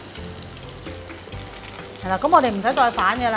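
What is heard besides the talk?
pan-frying meat patty over high heat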